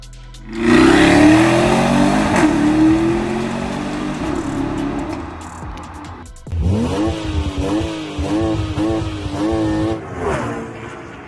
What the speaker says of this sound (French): Voici le BMW X7 M50i 2020, un SUV conçu pour dominer la route avec style et performance.